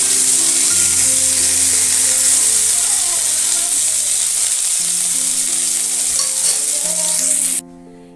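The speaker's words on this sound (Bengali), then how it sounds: "মাছগুলো ভাজা হয়ে গেছে, এবার মাছগুলো আমি তুলে নেব" Boal fish frying in oil in a kadai, a loud steady sizzle with scattered crackles and a low hum beneath, cutting off abruptly near the end.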